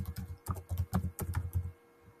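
A steady run of close, crisp keystrokes on a computer keyboard taps out a short phrase, then stops, with no talking.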